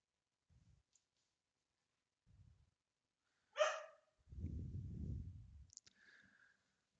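A dog gives a single sharp bark close by in a quiet indoor room. A low rumbling noise and a few small clicks follow.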